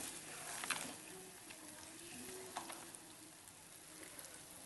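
Chicken qorma meat frying in a pot, giving a faint, continuous sizzle broken by a few louder spatters and stirring clicks.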